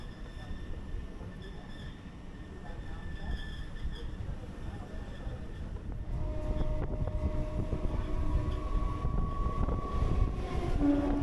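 A Sealdah-Baruipur local train rolling slowly over rails under track maintenance, a continuous low rumble and clatter from inside the carriage that grows louder partway through, with faint tonal whines above it.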